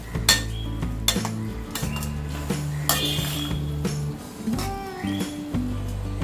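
Baingan bharta gets mixed in a pan, a metal spoon scraping and clinking repeatedly against the pan in an uneven rhythm, close and clear with no voices.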